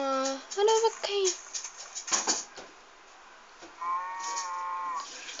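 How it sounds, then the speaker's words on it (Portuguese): A Minecraft cow lows near the start with short wavering calls, then another drawn-out moo near the end, amid light game noises. "Ah, olha a vaquinha."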